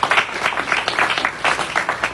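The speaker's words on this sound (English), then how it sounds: "So let's give him another round of applause." Audience applause at a Black History gathering, a short burst of brisk, steady clapping from a crowd, fairly close and filling the moment alone.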